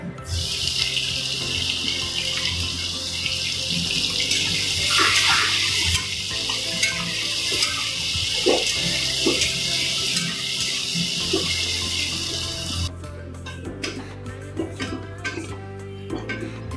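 Two chopped medium onions fry in a pan, a loud bright sizzle with stirring scrapes and clinks, then the hiss cuts off abruptly, leaving quieter clattering near the end; no speech.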